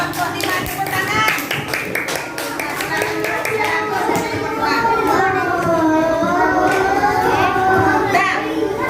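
Classroom of children applauding together for a group of classmates, steady dense clapping under a lively babble of young voices and a teacher's voice, continuing without a break.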